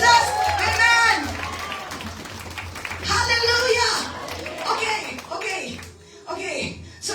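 Clapping and cheering from a congregation at a Sunday evening church retreat in Margao, rising in loud bursts of crowd applause mixed with voices and shouts.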